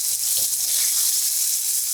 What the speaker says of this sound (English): When the oil is hot, add the sausages to the skillet and fry them until they're brown and slightly crispy